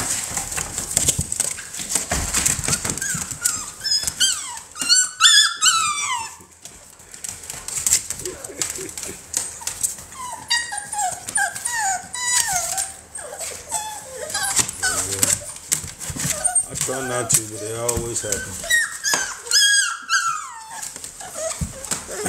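American Bully puppies whimper and yelp in high, squeaky, pitch-sliding cries, coming in overlapping bursts close by, with brief rough growly noises and some talk mixed in.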